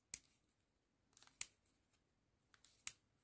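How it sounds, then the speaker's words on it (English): A 35mm film lead retriever gives faint, sharp mechanical clicks as it is wound, with a few isolated snaps spread unevenly across a quiet background. "So now we're going to wait until we hear four clicks."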